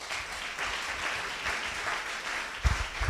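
Church congregation applauding and acclaiming during a worship service, a steady wash of clapping and cheering voices with a sharper burst near the end.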